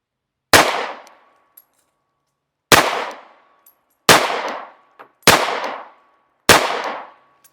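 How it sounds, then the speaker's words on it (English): Five sharp gunshots from an S&W Bodyguard 2.0 pistol firing G2 Research R.I.P. 62 gr 380 ACP ammunition, spaced irregularly about a second or two apart. Each crack is loud and close with a short ringing decay, and there is no talking. "So I'm going to try to shoot more rounds here just to see how it's performing."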